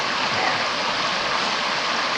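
Creek water flowing steadily during a hike in the Big South Fork area, a constant broadband rush heard up close with no talking.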